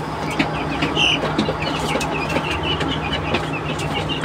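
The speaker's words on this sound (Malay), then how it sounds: "Ini Brahma kacuk ayam penelur." Brahma crossbreed laying hens cluck softly and repeatedly inside a coop, their short calls scattered over a steady hum of background noise, with no talk.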